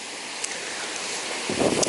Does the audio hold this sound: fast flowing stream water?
yes